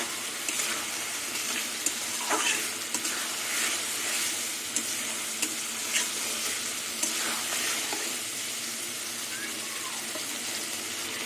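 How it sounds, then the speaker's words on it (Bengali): Fried pointed gourd and potatoes being sautéed with spices in a pan for a vegetarian curry, a steady close sizzle with scraping stirs and small clicks of the spoon running throughout, no talk. "এবার ভাজা পটল দিয়ে আলু দিয়ে মশলা দিয়ে ভালো করে কষিয়ে নেব"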